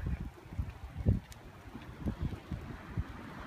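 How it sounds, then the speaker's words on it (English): Gusty wind buffeting the microphone with low rumbling surges of ocean surf rolling onto a beach in light rain, uneven and fairly loud, no one speaking. "It's a little bit windy and a little bit rainy, but here's the ocean"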